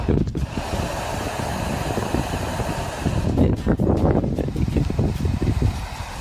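Wind rushing through a tunnel on a windy day, a loud, roaring, buffeting gust noise that swells and surges unevenly with rumbling low gusts, close to the microphone.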